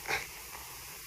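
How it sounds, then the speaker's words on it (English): A wildebeest in the African bush gives a single short, breathy snort close by, followed by quiet outdoor background. "wildebeest has spotted us. He's having a little snort."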